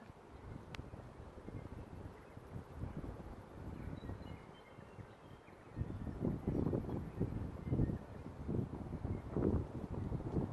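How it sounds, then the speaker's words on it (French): A light breeze blowing outdoors near a fjord in lush nature, a continuous soft rushing noise that swells and gusts more strongly in the second half. "Une petite brise se lève."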